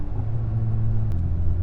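A car with its muffler deleted rumbles steadily with a deep, droning exhaust tone, loud and close, holding an even note with only a slight shift in pitch partway through.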